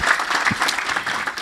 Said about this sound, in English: Let's do a round of applause for Clara.